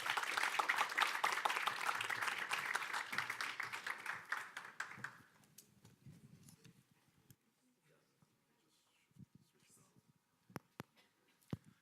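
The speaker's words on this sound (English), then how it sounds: "Let's do another round of applause" A conference audience applauds with dense, steady clapping for about five seconds, then it fades, leaving near-quiet with a few scattered knocks and taps.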